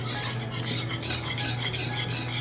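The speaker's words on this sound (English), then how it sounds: "we're going to whisk in some butter" Butter being whisked into pastry cream in a pot makes a steady, rapid rhythmic swishing and scraping, close and continuous with no talking.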